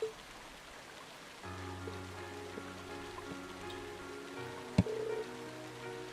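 Steady rain pours down in the video game Trails of Cold Steel, a soft continuous hiss under tonal background music, with one sharp brief hit near the end.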